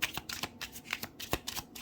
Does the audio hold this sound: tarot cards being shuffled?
yes